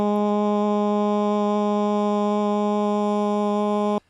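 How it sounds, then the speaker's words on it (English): A sustained sung "ah" vowel recorded as a sample, one steady pitched tone with rich even harmonics held for about four seconds before cutting off abruptly. "Here is me recording an ah."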